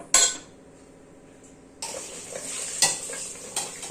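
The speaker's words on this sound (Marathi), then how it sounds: "हा मसाला चांगला तेल सुटूस्तर परतून घ्यायचा." Masala sautéed in oil in a pan, a sharp spatula clink followed by a hush, then a steady sizzle with stirring scrapes and occasional metal clinks up close; no talk.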